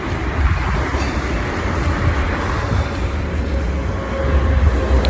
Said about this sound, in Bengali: আমরা এখন ট্রামে উঠবো ছয় নম্বর ট্রাম